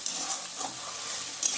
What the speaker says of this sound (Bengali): বাটা মশলাটা কিছুক্ষণ কষতে হবে যাতে আদা রসুনের গন্ধটা চলে যায়।